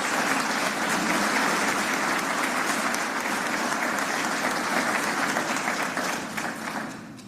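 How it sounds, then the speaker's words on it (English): A large crowd gives sustained, dense applause at a memorial gathering in Atlanta, the clapping a steady full wash that holds throughout and tapers slightly at the end. "Can we give him a round of applause?"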